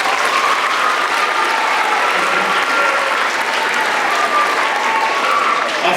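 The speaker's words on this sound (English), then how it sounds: "Give him a big round of applause, guys." Sustained, dense applause from an elementary school audience at a D.A.R.E. graduation ceremony, loud and steady throughout with no break.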